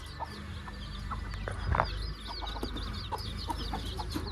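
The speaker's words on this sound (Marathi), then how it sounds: "आता हे कोंबड्याला बाहेर सोडायचं" Rooster and hens on a rural Indian homestead, with the rooster being let out of its coop, cluck steadily in short repeated bursts at close range, over a constant hum of farmyard background.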